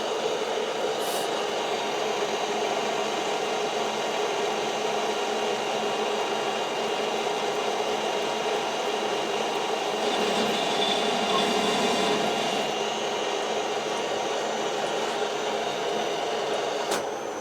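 A metal lathe taking a slow-feed spring pass at about 3 thou per revolution while screw cutting and turning, a steady, even whirring machine drone that holds throughout with a slight swell midway, and no talk.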